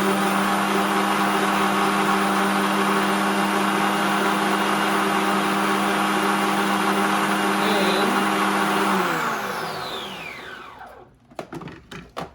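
A motorized ice shaver grinds ice for a margarita, a loud steady whine held for about nine seconds. It then spins down, fades out, and ends in a few clattering knocks.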